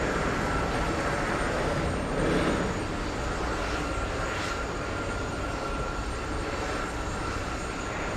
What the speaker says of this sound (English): There's the Delta flight 286 on its way to Malpensa in Milano.